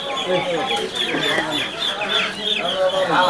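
Tiger chickens cluck close by at a poultry and bird market in Savar, their calls layered over one another against a busy crowd and people talking.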